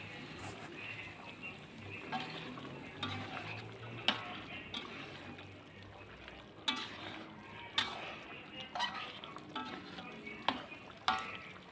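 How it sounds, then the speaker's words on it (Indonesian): A spoon scrapes and taps through sauce simmering in a pan as it reduces and thickens, with irregular knocks against the pan over a soft bubbling sizzle, fairly quiet and steady. "Selanjutnya diaduk-aduk kembali"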